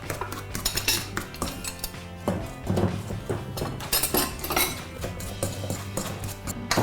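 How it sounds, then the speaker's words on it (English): A fork mashes a vegan chorizo mixture in a bowl, giving quick, repeated metallic clinks and scrapes against the dish in an uneven rhythm, close and fairly loud, with no talking. "we've got a fork, and it's simply a matter of mashing and bringing everything together"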